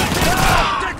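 Rapid machine-gun fire from Call of Duty 2 rattles loudly in one dense burst, with battle noise and a voice over it.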